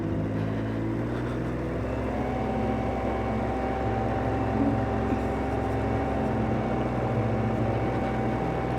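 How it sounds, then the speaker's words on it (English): Steady loud engine drone that rises in pitch early on and then holds a high, sustained whine. "Sounds like it's revving loud."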